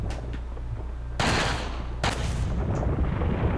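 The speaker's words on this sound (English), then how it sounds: "Okay, so you can shoot it down." Resident Evil 4 gameplay gunfire: two loud, sharp shots about a second apart, each with a booming tail, over a steady low in-game rumble.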